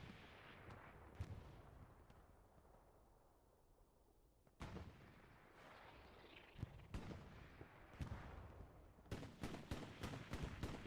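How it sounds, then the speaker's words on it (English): Rocket impacts and explosions strike an infantry defensive line in the video game Hell Let Loose, sounding as a rolling series of booms and sharp blasts that quicken into a rapid burst near the end, with low rumble between hits. "Lots of rockets, lots of lights doing a lot of damage to that infantry defensive line"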